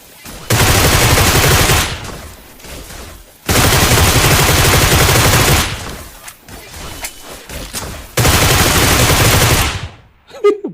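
Loud automatic gunfire in the BGMI video game, three sustained bursts of rapid shots separated by short pauses, with faint voices between the bursts.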